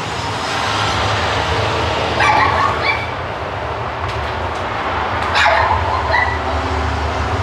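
A dog barks in two separate bursts of yips over a constant low rumbling background, loud and fairly close, with no talking.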